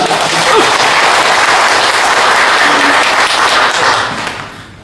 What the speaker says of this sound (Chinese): 您这掌声再热烈点会更好的